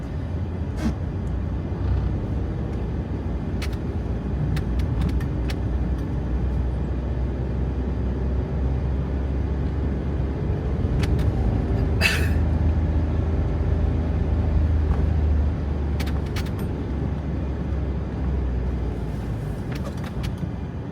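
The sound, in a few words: road traffic congestion, cars and buses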